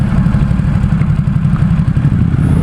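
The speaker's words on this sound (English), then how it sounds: "taking a ride on the Ducati-SUPERSPORT-S" A 2017 Ducati Supersport S motorcycle engine runs steadily while riding through San Francisco, a loud continuous low rumble close by with slight fluctuation and clatter, no voices.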